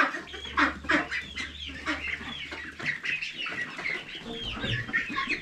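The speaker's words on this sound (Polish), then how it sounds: "Co tam gęsi i perliczki?" Geese and guinea fowl on a farm call nearby in a dense, overlapping mix of honks, squawks and clucks over a low steady hum.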